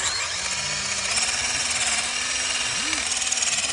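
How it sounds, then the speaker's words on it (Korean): A boring bit driving through thick, hard lake ice at an ice-fishing spot, a loud steady grinding drone that carries on without a break throughout. "여기에 보링 비트로 구멍 하나 뚫 있습니다."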